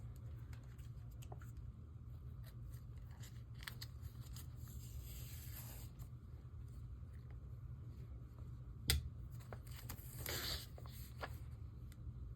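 Scissors snip through paper for a dot-grid planner at close range, with a few scattered crisp cuts and one sharp click over a steady low room hum.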